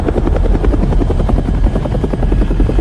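Loud, close helicopter in flight during a horror film scene, rotor blades thumping in a rapid steady pulse over a heavy engine drone that never lets up.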